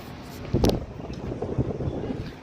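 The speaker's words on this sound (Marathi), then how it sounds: "वारा खूप जास्त." Strong wind buffets the microphone on a rooftop terrace facing a large mountain in Himachal, a steady low rumble with a sharper gust burst partway through.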